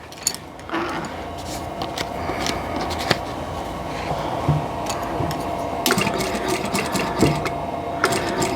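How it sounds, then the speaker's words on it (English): A sewing machine stitches along marked lines on quilt block pieces, running steadily with a whirring mechanical rhythm and occasional sharp clicks and handling noises. "So I'm going to sew right on these lines."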